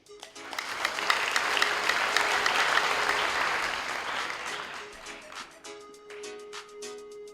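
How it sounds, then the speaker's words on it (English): An audience at a secondary school debate applauds the final speaker, steady clapping swelling quickly and holding, then tapering off to scattered claps as a voice begins. "round of applause for the final speaker of Kokopo Secondary, Raymond Kalai"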